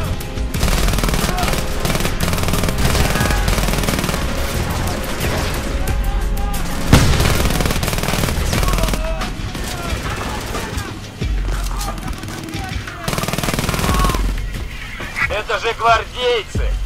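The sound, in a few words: gunfire in video game Frontlines: Fuel of War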